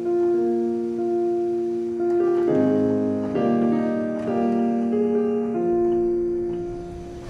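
Orchestral theme for King Graham from King's Quest, built on rising fifths, with sustained brass-like chords stepping upward in a stately, ceremonial swell and no voices.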